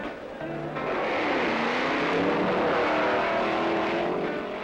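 A 1964 drag racing car launching hard at the start and lifting its front wheels, its engine building into a loud sustained roar that holds steady, with a faint voice narrating over it.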